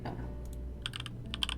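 Keys clatter on a computer keyboard as a short Linux command is typed, quick clustered clicks coming close and clear over a low steady hum.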